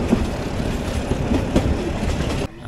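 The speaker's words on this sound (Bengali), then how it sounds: "আর এই মুহূর্তে আমি ট্রেনের ভিতরে আছি।" Interior of a local passenger train in Bangladesh, departing Hatibandha station on the route to Burimari: a loud, continuous rumble of wheels and carriage with faint clickety-clack, cutting off abruptly near the end.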